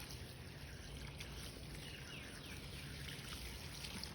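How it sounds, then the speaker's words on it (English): Water poured from a watering bucket into a sensory bin of berries, a steady trickling splash that runs continuously at moderate level with no voices over it. "I got some water in my watering bucket here. Can you see that in there, Catherine? And I'm gonna pour it in here."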